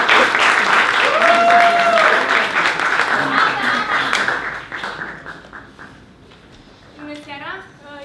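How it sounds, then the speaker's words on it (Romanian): Audience applause for a speaker at a talks event in a pub, loud dense clapping with cheering voices for about four seconds, then fading away to scattered claps and quieter room noise. "Să o încurajăm cu aplauze pe Ana Numâncesc Duminica Drăgoi."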